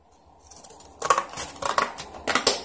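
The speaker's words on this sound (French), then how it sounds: "Et là, je prends des ciseaux et je découpe" Scissors cut through cardboard for a scrapbooking envelope album, with crisp, close snips in a quick irregular series after a quiet start and no talk.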